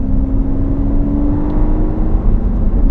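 A massive 730-horsepower V12 supercar engine, either a Ferrari 812 Superfast or Lamborghini Aventador S, produces a steady, loud drone that fills the whole clip with no speech.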